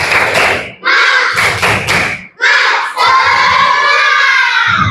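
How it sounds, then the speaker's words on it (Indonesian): Schoolchildren in a third-grade classroom clap a rhythmic spirit clap together, loud bursts of group clapping and thumps in short patterned phrases with brief pauses, mixed with children's shouting voices. "Tepuk semangat."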